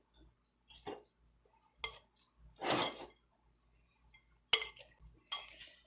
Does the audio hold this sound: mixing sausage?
yes